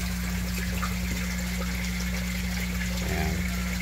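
Water gushes steadily from the solid lifting outlet of a recirculating tilapia aquaculture tank, a loud continuous rushing flow with a constant low pump hum underneath and no pauses.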